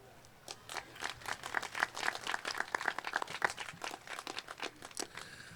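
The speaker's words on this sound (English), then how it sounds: "Please give a round of applause for them." An audience applauds the Sons of the American Revolution at an outdoor Let Freedom Ring bell-ringing ceremony, a modest scattering of claps building then thinning over several seconds, fairly distant and alone.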